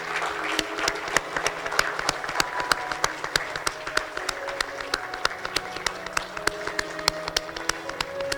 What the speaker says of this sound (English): giving them a big round of applause for being there with us till the end of